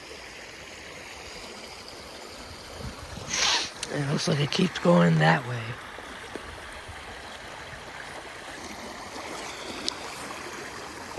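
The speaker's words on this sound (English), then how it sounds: "But there's a little rapid area right here." Water rushes steadily through a small rapid area along a neighborhood stream, a constant close wash of flow, with someone talking briefly over it in the middle.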